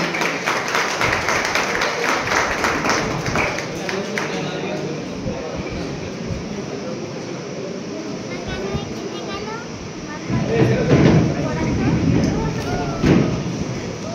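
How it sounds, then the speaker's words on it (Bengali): An audience applauding to welcome a guest at a teachers' training institute event. Scattered clapping runs under an amplified speaking voice, then swells into a short louder burst near the end. "সবাই একটু হাততালি"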